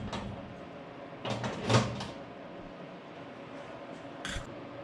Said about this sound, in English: Close the door, you turn the key, it's locked.